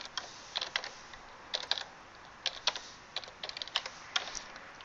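Fingers type on a computer keyboard at close range, keys clacking in quick irregular bursts separated by short pauses, with no voices.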